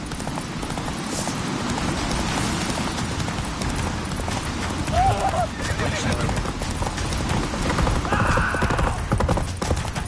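Roach, a horse in the video game The Witcher 3, gallops with steady rapid hoofbeats under game music and effects, a brief whinny cutting through midway, while a voice speaks over the action.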